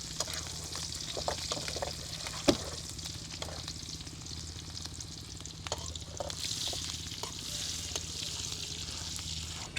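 Green chillies sizzling and frying in hot oil for a keora fruit sauce, a steady crackling hiss throughout with occasional sharper pops and stirring clinks, close and fairly quiet, no talking.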